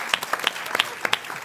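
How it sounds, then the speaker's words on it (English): Scattered, distinct hand claps from an audience at a panel event with a TV cast on stage, a sparse irregular patter of individual claps at moderate volume rather than a full ovation. "I think we should clap for the way that Jimmy died."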